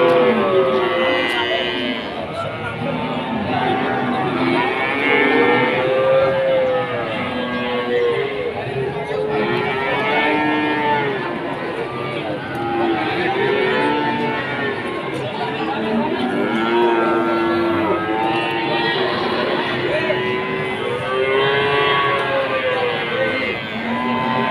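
Cattle moo again and again at a busy livestock market at Pasar Wiro, with many overlapping calls near and far over a constant murmur of crowd chatter, and people talk throughout.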